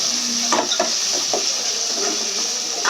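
Peas tossed and stirred in a hot frying pan for chicken biryani, a steady bright sizzle with a few soft scraping clinks of the spoon, close and alone.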